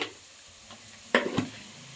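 Spices for a dhaba-style chicken curry, with turmeric and coriander powder, frying in a pan, a soft steady sizzle broken by a brief stirring scrape and clatter midway, close and quiet.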